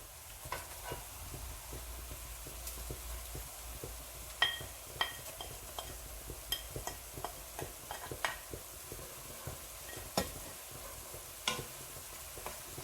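Black cardamom, turmeric and other spices sizzle softly in a pan for mash dal, with steady faint frying and repeated light spoon scrapes and taps while being stirred.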